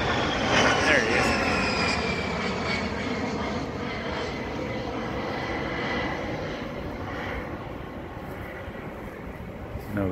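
Jet aircraft with GE turbofan engines fly low along a beach, a loud, sustained roar with a shifting whine that stays steady for about ten seconds while someone talks over it.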